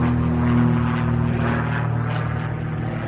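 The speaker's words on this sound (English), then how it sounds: "I'll wait for the plane to go over." A propeller airplane passes overhead with a loud, steady droning hum that holds throughout, slowly easing off toward the end, with no voices present.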